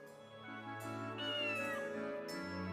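Amaretta's familiar, a cat in the game GrimGrimoire, meows a few times, clear close mewing calls over soft background music, without voices.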